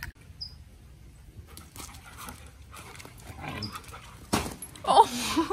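A dog makes a few short yips and whimpering sounds close by, mixed with light pattering and movement, without anyone talking.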